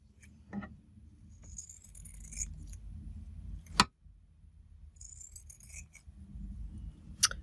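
Scissors snipping fabric for a collage journal page, two sharp crisp cuts spaced a few seconds apart with light rustling handling between, close and fairly quiet.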